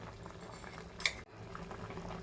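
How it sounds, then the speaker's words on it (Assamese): Fish soup with tomato, chilli and greens bubbles quietly in a pot, a faint, steady simmer with soft liquid burbling and one brief metallic clink of a utensil partway through. "মাছ, চেংমৰা আৰু বিলাহী, খৰিচা, লগতে ৰঙালাও আগৰ ঠাৰি উতলি আছে।"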